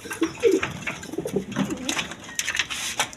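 Pigeons offered for sale coo close by in several short, throaty bursts, with faint background noise between calls.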